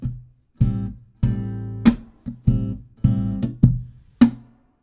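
A fingerstyle hip-hop guitar groove, played alone in a tight rhythm: about eight sharp chordal hits with thumb slaps and short ghost-note plucks between them, each ringing briefly before the next attack.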